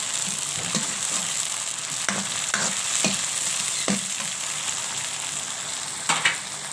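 Tomatoes and spices fry in a hot pan on a gas stove, giving a steady close sizzle. Sharp stirring scrapes break in at intervals, and no one speaks.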